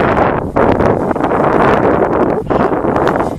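Wind buffets a Walkera Runner 250 sport drone in flight, a loud, continuous roaring rush over the microphone with two brief dips in intensity and no talking.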